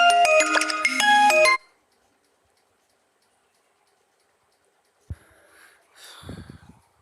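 A phone ringtone plays an incoming-call melody loudly for about a second and a half, then cuts off into silence, followed by faint handling clicks and rustle.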